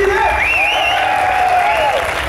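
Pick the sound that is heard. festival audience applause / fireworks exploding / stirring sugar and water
festival audience applause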